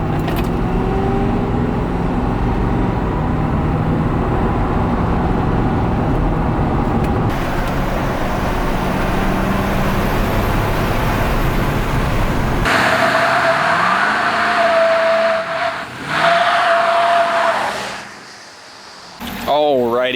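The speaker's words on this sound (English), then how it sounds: "You can hear the throaty V8 sound in here" Diesel truck engine, a 2020 Ford 6.7 Powerstroke fitted with an S&B cold air intake, runs steadily with a deep, throaty rumble and a rising turbo whistle in the later half, briefly dropping off near the end.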